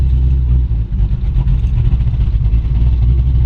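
A 1929 Ford Model A pickup street rod with a low-mounted shifter and 700R4 transmission drives down the block, its engine rumbling loud and steady with a deep, continuous low-end roar and no talk.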